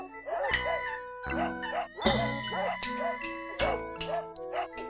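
Dogs barking and yelping in a picture-book reading of a Japanese ghost story, a busy run of repeated barks and whimpers crowding close together, loud and continuous across the whole stretch.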